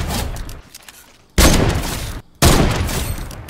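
Bursts of rapid gunfire in Fortnite crackle loudly in two dense volleys separated by short pauses, harsh and close.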